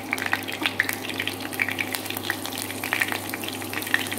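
Sugar-marinated pineapple stir-fried in a pan for braised duck, a steady sizzle and hiss with scattered crackles and spatters, fairly close and without talking.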